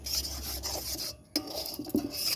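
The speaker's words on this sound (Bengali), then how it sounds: "এরকম করে আমি আস্তে আস্তে জাল দিয়ে দিয়ে আমি দুধটাকে নাড়তে থাকবো" Milk simmering and thickening in a pan is stirred steadily, the utensil scraping and rubbing against the pan bottom in close, continuous strokes with a short pause midway.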